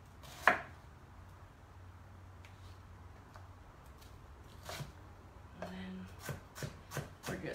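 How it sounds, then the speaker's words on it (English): A knife rough-chops ingredients for a spiced corn and plum salad on a board: one sharp chop near the start, then a quick run of close, crisp chops toward the end, with no talking. "Rough chopping these."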